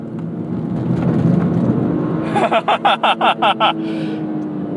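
A 2023 Toyota GR Corolla driving over gravel, with a steady road and tyre rumble throughout and a rhythmic series of crunchy bursts near the end as the car crosses the loose stones.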